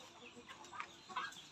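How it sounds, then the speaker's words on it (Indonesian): Backyard village chickens in a small coop cluck softly and faintly at feeding time, with a few quiet, brief clucks over low background noise. "teman kita yang sedang memberi pakan ayam."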